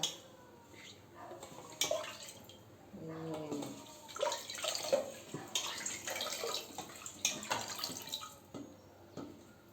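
Tap water runs and splashes in a sink while chicken is washed clean, an uneven stream broken by clattering and sloshing, with a brief voice partway through.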